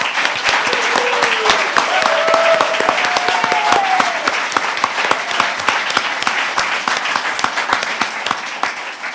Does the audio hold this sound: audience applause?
yes